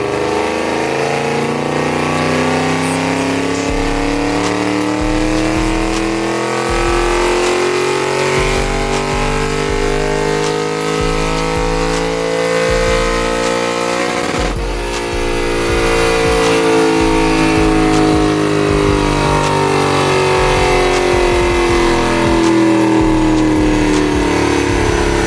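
A Lexus LC500 runs on a dyno with its engine revving hard for a long stretch, pitch climbing and falling in sweeping pulls, loud and close with no voices.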